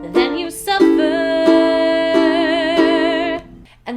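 A ukulele plays a chorus of a song with every strum downward, four or five even, evenly spaced strokes ringing close up while a sustained voice sings over them before the sound stops briefly.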